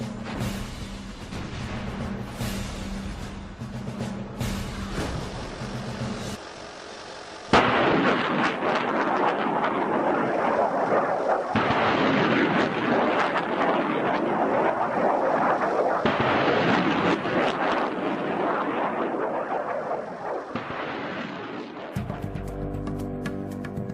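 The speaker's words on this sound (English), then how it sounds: "British and American troops began a massive artillery barrage onto the Iraqi positions in front of them." Massive artillery barrage during the Desert Storm ground war, including a multiple launch rocket system firing: continuous loud rumbling blasts and roaring launches, dense and overlapping throughout, with a brief lull before the heaviest stretch.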